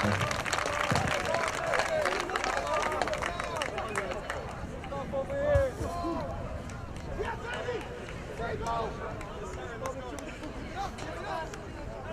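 Crowd cheering and scattered clapping at an American football game in Białystok after a touchdown, a broad roar of voices under a loud announcer speaking over the stands.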